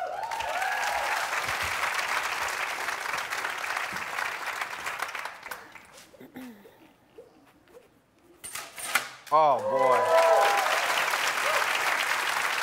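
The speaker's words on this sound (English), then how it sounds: "Let's give these ladies one more round of applause" Audience applause after cowgirls give a roping demonstration: a full, sustained round of clapping and crowd noise that fades to quiet, then talk and laughter before the clapping swells again.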